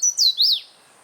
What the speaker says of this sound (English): we also managed to get everyone on this singing Swainson's warbler